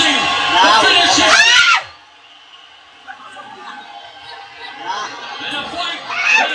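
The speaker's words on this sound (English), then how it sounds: "The crowd here sensing the finishing." Loud crowd cheering and shouting at the Mayweather vs Pacquiao boxing fight bursts for nearly two seconds, drops to a low murmur of chatter, then slowly swells again toward the end.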